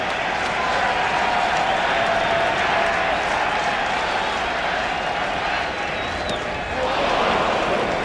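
Yankee Stadium crowd during a 2003 playoff game against the Twins, loud sustained cheering and clapping, a dense, continuous roar of many voices and hands that dips briefly, then surges again.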